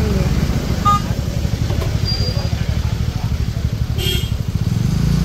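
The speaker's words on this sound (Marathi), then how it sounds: "मरणाचं ट्रॅफिक आहे, सारखं गाडी चालवायला पण भेटत नाहीये." Heavy road traffic crawls near Devbag by Tarkarli Beach, with a close, pulsing engine drone and a short horn toot partway through, while people talk over it.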